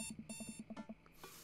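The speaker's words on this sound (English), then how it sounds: "I jolt to the sound of my alarm." A digital alarm clock rings in the dating game Dream Daddy, a rapid run of bright electronic beeps in two quick bursts, followed by a softer tone and a faint hiss.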